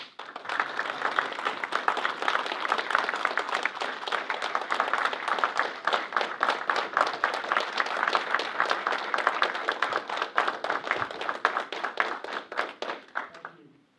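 Audience at a military service ceremony applauds a Vietnam veteran with sustained, dense clapping that fills the room, holding steady for about fourteen seconds before tapering off at the end.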